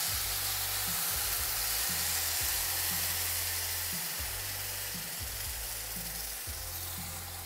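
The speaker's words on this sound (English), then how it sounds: "So I'm gonna let the quinoa toast about 1 more minute" Quinoa toasting in a pot, a low steady sizzle overlaid with repeated scraping strokes of stirring roughly every second, fairly quiet and close, with no voices.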